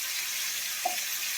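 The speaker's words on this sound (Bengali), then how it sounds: "পাঁচফোড়নটা একটু বেশি করে ভেজে নেব ভালো করে, লাল লাল করে।" Panch phoron whole spices frying in hot oil in a wok, a steady soft sizzling hiss with one small pop partway through, fairly quiet and continuous.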